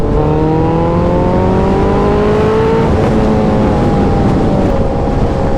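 A Suzuki Hayabusa motorcycle ridden through light Saturday traffic in Delhi, its engine a loud, steady drone whose pitch climbs and settles as the rider shifts, with no one talking.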